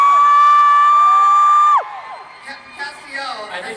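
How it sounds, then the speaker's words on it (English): Comic Con panel audience screaming and cheering in a large convention hall, a sustained loud shriek cutting off into scattered whoops and crowd noise. "I think they're screaming"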